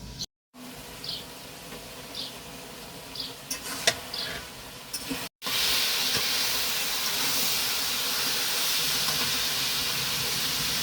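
Fish curry simmers under a lid, first a low bubbling with faint clicks, then a steady loud hiss of steam that fills the rest of the time, close and continuous.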